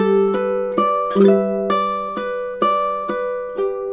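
A summertime chord melody on ukulele: a steady run of about eight bright strummed chords with ringing melody notes on top, evenly paced, close and unaccompanied.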